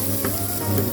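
Chopped onion sizzles and fries in hot canola oil, a steady close crackle over one short moment.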